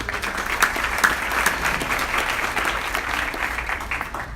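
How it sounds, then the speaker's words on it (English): Steady applause from a gala audience at a scholarship event, a dense wash of clapping with a few sharper claps standing out, moderately loud and continuous throughout. "I just want to give a quick little applause for them"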